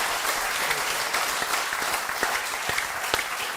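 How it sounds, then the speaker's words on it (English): An audience at a startup talk event in Bali claps steadily, producing a dense, continuous patter of many hands at moderate loudness for a few seconds, with no talking over it. "can we give them a round of applause for those ideas?"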